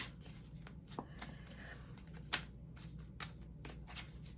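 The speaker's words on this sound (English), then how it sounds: "Do a couple more shuffles." Quiet riffling and flicking of a deck of tarot cards being shuffled, with soft papery clicks and occasional sharper snaps close by.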